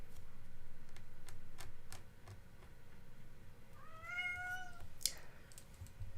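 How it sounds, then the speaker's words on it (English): A domestic pet cat lets out a rising, wavering meow partway through, with a short sharper call right after, over soft clicks and typing-like taps in a quiet room during a painting session. "Pardon me while I speak to my cat for a moment."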